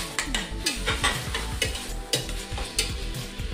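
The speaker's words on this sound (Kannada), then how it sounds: "ರುಬ್ಬಿಟ್ಟಿರೋ ಎಲ್ಲ ಮಸಾಲೆನ ಹಾಕಿ 1 ನಿಮಿಷ ಚೆನ್ನಾಗಿ ಇದನ್ನೆಲ್ಲ ಫ್ರೈ ಮಾಡ್ಕೋಬೇಕು." Ground masala and sweet corn sizzling in a pan for pulao, stirred briskly with a metal spoon that scrapes and clinks against the pan in quick repeated strokes, close up.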